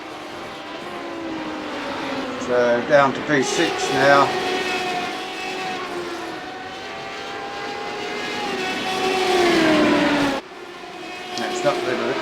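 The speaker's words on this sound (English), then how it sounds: "we've got a car, Audi sports car, liveried car coming through now" An Audi-liveried sports car passes on a race track, a tonal engine drone rising and sliding down in pitch as it goes by, heard over a steady in-car engine hum with a commentator speaking briefly.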